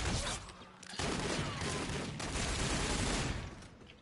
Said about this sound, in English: This shotgun is brutal.